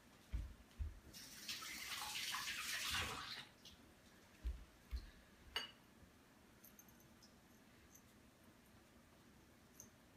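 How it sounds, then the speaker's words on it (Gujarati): Water runs from a tap for a couple of seconds as hands are washed, faint and soft, followed by a few light knocks and handling sounds in a quiet kitchen. "હવે હું જલ્દી ખાલી મારો હાથ જરાક ધોઈ લઉં"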